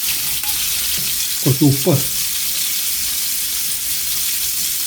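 Beef strips for fajitas sizzle and crackle in a hot pan, a loud, steady frying hiss throughout, briefly interrupted by a short spoken remark.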